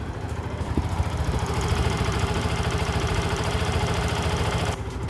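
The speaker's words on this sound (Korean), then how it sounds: "125cc 단기통의 그 엔진 소리네요." Up close, a Benelli RKF 125cc single-cylinder motorcycle idles with an even, rapid thumping pulse at a steady level throughout, with no one talking.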